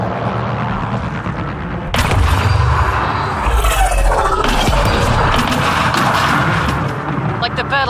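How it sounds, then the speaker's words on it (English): Loud incoming weapons fire in the Mass Effect: Andromeda sci-fi shooter, with heavy booming impacts, crashes and rapid bursts of shots for several seconds, layered with battle noise and shouted voices. "Incoming fire!"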